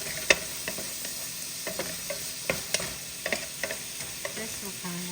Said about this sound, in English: I'm just going to cook this in high so it browns.